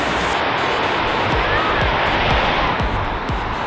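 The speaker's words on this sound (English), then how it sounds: "I don't believe I've ever seen this flow of water at high." A river running at high flow rushes below a lookout, a loud, continuous roar of turbulent water with wind buffeting.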